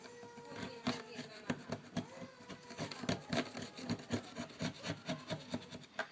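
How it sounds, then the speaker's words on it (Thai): A blade scrapes dry wood into fine shavings for fire-starting tinder, producing a quiet, close, steady series of rasping strokes at a quick, even pace, heard alone. "ก็ขูดอย่างนี้นะฮะ ไม้ขอให้แห้งนะครับ ไม้แห้งนะครับ แห้งก็ขูด"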